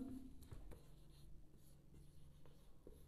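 Chalk or marker writing on a board during a classroom electrical lesson: faint, scattered taps and short scratchy strokes in quiet surroundings, no voice heard.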